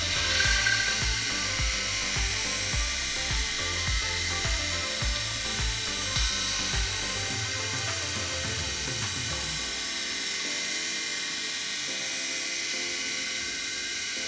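A blade sharpening machine runs steadily, a continuous whirring hum with a rapid ticking pulse through the first half that fades into a smoother drone, close and alone without talk.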